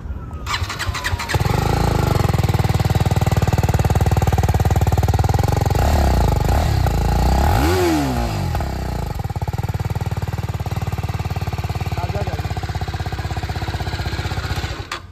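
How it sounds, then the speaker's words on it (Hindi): A BMW G310R motorcycle engine starts and idles with a deep, loud, steady exhaust rumble, briefly revved midway before settling back to a throbbing idle. "तो ये इसके एग्जॉस्ट नोट की आवाज़"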